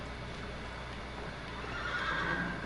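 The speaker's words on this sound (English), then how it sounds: "I freaked out my horse" A horse in the video game Shadow of the Colossus whinnies loudly over a steady background hiss, the neigh rising and peaking in the second half of the clip, with no talking.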